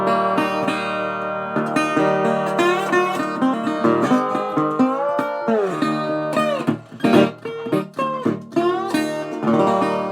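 A signature model resonator guitar played acoustically, bright metallic strummed chords and ringing slide-like notes, close and loud, with bursts of picking and sustained resonant tones over about ten seconds.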